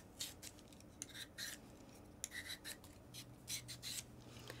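Potatoes being peeled for mashed potato, with a run of short scraping strokes, close and faint, in a quiet kitchen with no talking.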